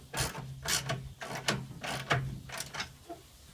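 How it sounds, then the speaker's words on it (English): A wrench ratcheting to tighten a bolt on a footstool leg, steady repeated clicking strokes, close and fairly loud, with a low hum underneath. "grab your wrench and tighten it down"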